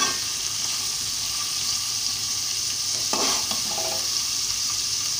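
Onions fry in a pan for a cowpea-bean curry, giving off a loud, even sizzle that holds steady, with a brief scrape or stir near the middle.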